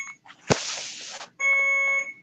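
An alarm sounds close and loud, a harsh burst followed by a steady electronic tone with stacked pitches that holds for nearly a second before cutting off, with no talking over it.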